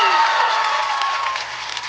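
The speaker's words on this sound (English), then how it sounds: "screaming children in the neighborhood in the background to haunt you" Children in the neighborhood screaming and shouting in the background, a continuous high-pitched crowd-like din of young voices at steady, fairly loud level throughout.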